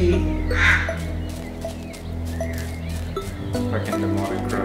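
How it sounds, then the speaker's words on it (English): Crows caw in the video game Little Misfortune, with short harsh calls over a droning ambient soundtrack and a low musical backdrop, under a quiet voice. "Fucking demonic crows."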